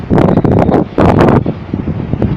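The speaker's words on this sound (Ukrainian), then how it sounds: "Вітер дує, чуєте, гудить, тягнеться." Strong wind gusts blow across a river on a frosty day, roaring and buffeting the microphone in loud bursts that ease off briefly before rushing back.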